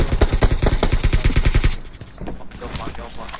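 Rapid automatic gunfire from a hacker in a battle royale shooter: a loud, fast rhythmic burst for about a second and a half, then quieter distant shots trailing off.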